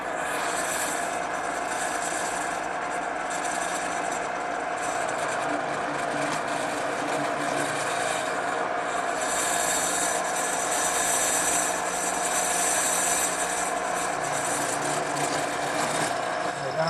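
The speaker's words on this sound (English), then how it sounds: "I'm ready to drill those over here on the drill press, where I've set up a 1/4-inch brad point bit" A steady whirring drone of machinery runs without break throughout a woodworking shop, fitting a drill press boring dowel holes in wood with a 1/4-inch brad point bit.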